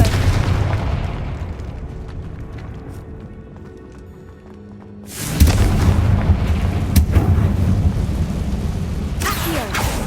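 Confringo fire spell cast in the Hogwarts Legacy video game, a loud bursting blast that erupts after a rumbling lull, followed by crackling impacts and scattered combat sounds.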